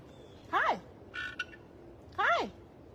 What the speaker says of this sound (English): I think that's a toad.